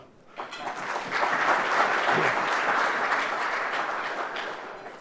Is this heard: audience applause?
yes